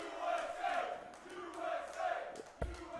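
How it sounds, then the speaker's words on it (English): A darts crowd at a USA versus Canada championship roars and chants steadily to spur on a player, with swelling waves of voices and a sharp thud near the end. "The crowd is trying to spur Jules on"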